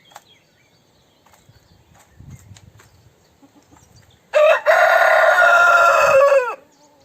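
A blue rooster near a solar-powered automatic chicken coop door crows once, loud and close, for about two seconds after a stretch of faint rustling and quiet background.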